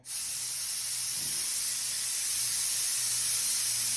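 A steady hiss of an aerosol spray can, continuous and fairly close for several seconds with no voices.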